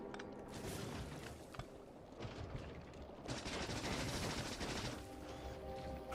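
Laser turrets in the Space Age expansion game fire in dense, rapid overlapping bursts, a loud continuous barrage of zaps and crackles that keeps going throughout with no pause.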